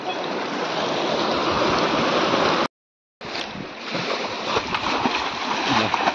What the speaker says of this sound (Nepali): पानी फाल्दैछन् है।